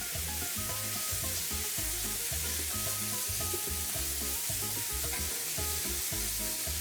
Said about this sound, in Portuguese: Agora eu já vou virar de novo a minha carne